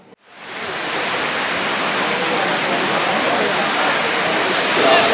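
Courtallam waterfall in Tenkasi district, where crowds gather to bathe, gives a steady, loud, unbroken roar of rushing water for several seconds, with no clear voices.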